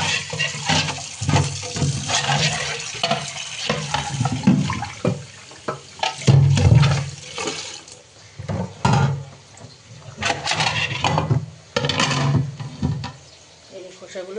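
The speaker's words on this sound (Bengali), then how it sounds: "জলটা ফেলে দিই" Water is poured and tipped out in a home kitchen during cooking, giving splashy bursts and gurgles that come and go, with someone talking intermittently between them.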